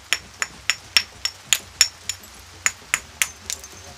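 A flint axe is worked by knapping, with about a dozen sharp, close stone-on-stone strikes knocking short flakes off in a fairly regular rhythm, each a bright clicky crack with a brief ring, alone against quiet background.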